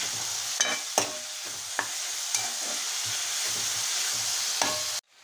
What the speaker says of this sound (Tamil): இந்த வெங்காயத்தை நல்லா வதக்கி கொடுக்கலாம்